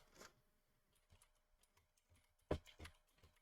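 Faint, quiet keystrokes on a computer keyboard, a few scattered taps followed by a sharper pair of clicks near the end, with no talking.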